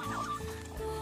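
Chickens on a farm give a brief, close run of clucking, the whole burst over in about a second.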